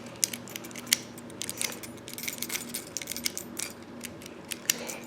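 A small metal knob on a homemade fidget cube is handled close up, with a series of light metallic clicks and ticks scattered irregularly over a faint steady background hum.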